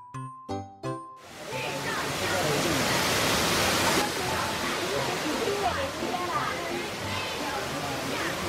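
Longgong Waterfall in Meishan Township, Chiayi, the most spectacular fall in the Ruifeng scenic area, roars as a loud, steady, close wash of rushing water after a few short voice-like sounds at the start.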